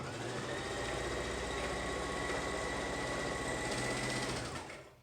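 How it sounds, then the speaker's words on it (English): A sewing machine runs continuously while stitching the inner edge of a fabric face mask, a close, steady mechanical whir that slows and stops at the end, with no talking. "So I'm going to lift up my sewing machine again and push that through"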